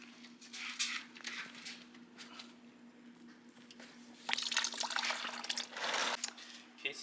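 Coolant from an Infiniti G20 radiator hose that has just been pulled off dribbles and splashes in intermittent wet patters, with a bigger gush toward the end, against a low steady hum.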